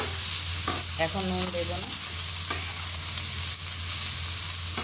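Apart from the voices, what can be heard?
vegetables being lightly fried and stirred in a pan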